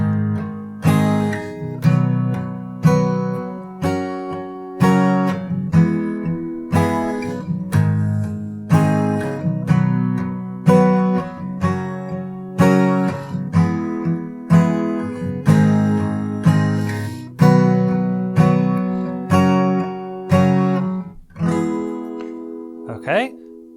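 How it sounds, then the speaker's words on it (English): Acoustic guitar strums full chords in a steady rhythm of bright, ringing strokes, loud and close, each chord sounding all its strings, with a muted scrape at the end. "On the 3rd time, you're going to strum all of the notes of whatever chord you're on."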